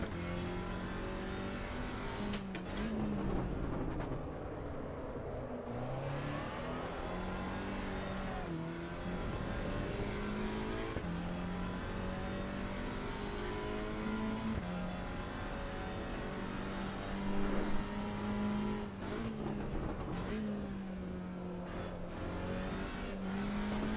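Road car engine in the video game Assetto Corsa EVO driven hard and fast, a steady loud drone with rising and falling revs through gear changes, continuous throughout with no talk.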